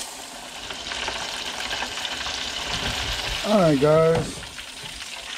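Six small pigfish panfish fry together in a pan, giving a steady broad sizzle that runs throughout, with a brief spoken phrase and a short melodic chirp near the end.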